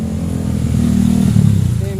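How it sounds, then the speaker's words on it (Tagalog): Motorcycle engine running and revving near at hand, with an uneven, stumbling note from a misfire that began after refueling; steady loud idle rumble throughout the two seconds with slight surges, no talk. "Sabi ni Sir, ba't daw nung nagkasulina siya, pumapalya daw yung motor."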